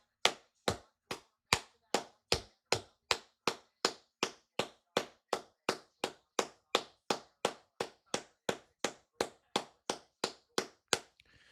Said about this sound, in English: Hey, clap it up for Tresean Gore.